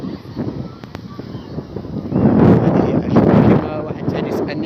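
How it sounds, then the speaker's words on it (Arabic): Gusty wind blows across Sidi Djelloul beach in Ain Temouchent, Algeria, a steady rumbling roar on the microphone that swells louder for a stretch midway before easing slightly. "راه الريح شويه راه طالع"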